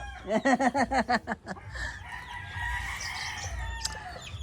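Backyard chickens behind a house: a rooster crows in a run of loud rhythmic pulses, then softer clucking and scattered bird calls carry on over a low ambient rumble.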